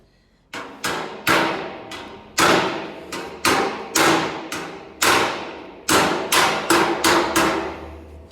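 Hammer blows on sheet metal during panel beating with a hammer and dolly, about fifteen sharp, ringing strikes in irregular bursts, close and loud, with no talk.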